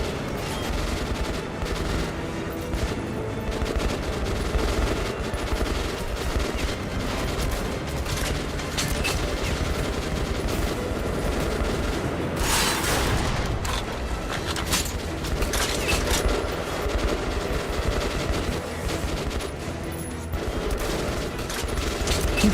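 Rapid, dense gunfire in Metro Last Light Redux, a sustained rattle of automatic shots with mechanical clatter that runs almost unbroken for over twenty seconds with no talking.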